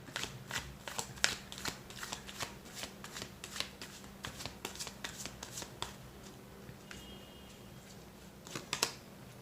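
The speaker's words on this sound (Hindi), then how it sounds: "मैं 5 कार्ड्स और निकालूंगा गाइज यहाँ पर" Tarot cards shuffled and drawn by hand in a quiet room: a steady run of crisp, close flicks and snaps, with a low hum underneath and no talking.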